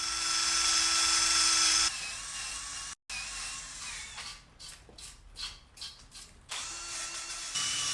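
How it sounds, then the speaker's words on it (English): A wire wheel on a drill strips paint from a Honda CRM250AR motorcycle frame, a high whining grind that runs steadily at first, then breaks into short uneven bursts and stops, ending with renewed grinding. "The wire wheel also removes the burnt scorch marks and creates a bright but slightly scuffed surface"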